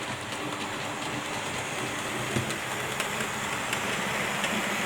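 Model railway locomotive running on a home layout, a steady faint rolling hum with light rhythmic clicks of wheels over rail joints, continuous and fairly distant.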